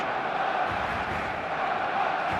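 A dense, steady roar of a large stadium crowd cheering at an eFootball match day, holding a constant level throughout with no clear talk over it.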